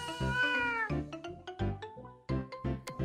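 A cat meows several times in quick succession. The calls are loud, close and drawn out, with short pauses between them and no talking.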